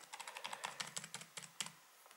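Password being typed on the detachable keyboard of a Pine64 PineTab tablet: a quick, irregular run of light key clicks, close and fairly quiet, with no voices.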